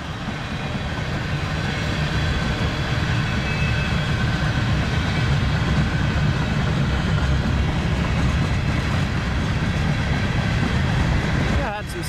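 Freight train cars, including old Illinois Central flat cars and a tank car, roll past continuously along the Galena River with a dense, rumbling clatter and steady metallic rattle, loud and close throughout.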